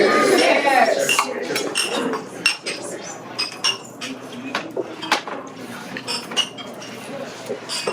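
Glasses and silverware clink repeatedly during a toast at an evening celebration, bright chinks scattered irregularly across the room over a murmur of guests.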